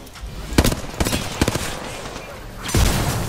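Flatline rifle fire in a video game comes as short bursts and single cracks, close and punchy, spaced across the moment with a heavier burst near the end.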